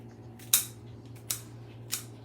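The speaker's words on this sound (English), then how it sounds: "Now with a scissor, we cut all the other pins that are on the outside." Kitchen scissors snip the outer leaf tips of an artichoke, three crisp, separate cuts spaced about half a second apart, close and clear over a faint background hum.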